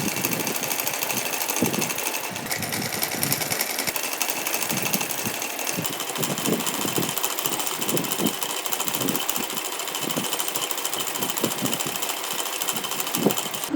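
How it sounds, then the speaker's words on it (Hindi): Sewing machine stitching two narrow strips for a doll's dress, a steady whirring mechanical hum that runs continuously with a rapid rhythmic clatter throughout, fairly close and unbroken. "दोनों पट्टियों को हम इस तरह से सिल देते हैं।"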